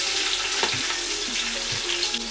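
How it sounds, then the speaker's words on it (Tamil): Chopped onions and green chillies sauté in hot oil for a biryani, giving a steady close sizzle with faint stirring scrapes throughout and no voices. "வெங்காயம் நல்ல கோல்டன் ப்ரௌன் கலர் ஆகுற வரைக்கும் வதக்கிக்கலாம்."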